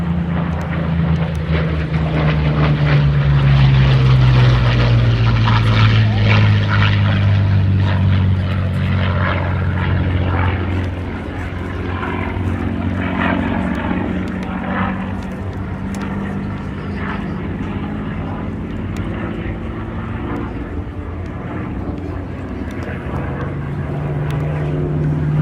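A Curtiss P-40F fighter runs in at the Duxford D-Day anniversary airshow, its piston engine droning loudly with a falling pitch as it passes, then fading into a quieter rumble.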